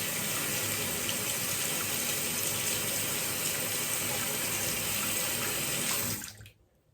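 Tap water gushes steadily into a sink to rinse shaving gear, a loud continuous stream close by that stops abruptly near the end.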